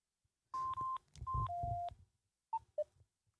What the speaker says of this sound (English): you can obviously turn it off by pressing and holding the power button until you get this noise